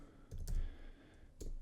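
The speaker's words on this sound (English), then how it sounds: "start typing your keyword into the Audible search bar" Typing on a computer keyboard, a few quiet, close keystrokes in two brief clusters with a pause between, with no one talking.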